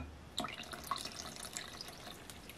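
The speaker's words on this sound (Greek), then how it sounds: "και 200 γραμμάρια φρεσκοστημένο χυμό πορτοκαλιού." Freshly squeezed orange juice poured into a pot of water for a mastic samali syrup, a close, continuous liquid trickle with a few small splashes and drips, no voices.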